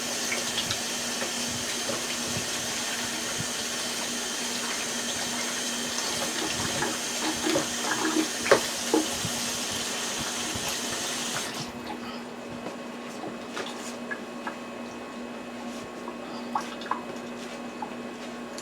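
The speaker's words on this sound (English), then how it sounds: "I'm going to wash my hands." Running water from a kitchen sink tap as hands are washed, a steady close rush with faint clinks and splashes, cutting off partway and leaving quieter room noise with occasional small knocks.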